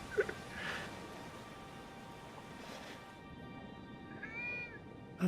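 A cat in the Foolish Mortals video game gives a short, faint meow over a steady background of ambient wind and surf-like noise.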